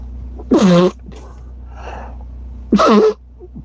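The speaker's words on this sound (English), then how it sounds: "I gotta sneeze" Two sharp, loud sneezes a couple of seconds apart, close to the microphone, with quiet rustling between them.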